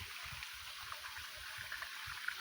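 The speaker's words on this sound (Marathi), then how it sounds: "इकडे आता पंपाने आम्ही नदीचं पाणी आणतोय आणि आमच्या दाडशांना लावतो." River water pumped into a crop field flows in a faint, steady trickle and gurgle with soft low pulses, heard close and alone without talk.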